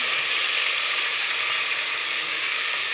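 Tomatoes hit a hot pan in the middle of cooking a tinda (apple gourd) sabzi, giving off a loud, continuous close-up sizzle that keeps an even hiss and crackle from start to finish, with nobody speaking.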